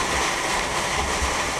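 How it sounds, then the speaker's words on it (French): Cave stream water rushing down inside the Grotte du Reclot, a steady broadband roar like a small waterfall, continuous and fairly close, with no voices over it. "Ça, c'est de l'eau qui vient d'en haut là, du ruisseau, je crois."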